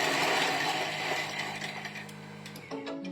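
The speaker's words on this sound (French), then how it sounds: "Et on va mixer 5 secondes vitesse sec." A kitchen food processor chops garlic and onion in a short burst, a dense rattling, grinding whir of blades and bits against the bowl that slows and stops near the end, with no talk over it.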